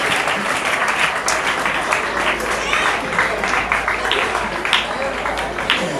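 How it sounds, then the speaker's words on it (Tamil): Sustained, dense applause from a large audience at an outdoor International Yoga Day event fills the whole stretch, loud and even, with a few voices faintly mixed in. "உங்கள் கரகோஷத்தை தட்டி அவர்களுக்கான அந்த வாழ்த்துக்களை நீங்கள் தெரிவிக்கும்படி உங்களை அன்பாக கேட்டுக்கொள்கின்றேன்"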